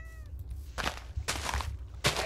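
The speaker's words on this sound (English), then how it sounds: "That is a black cat." A black cat in the Minecraft video game meows in three short, clear calls spaced across about two seconds, fairly close, over a low background hum.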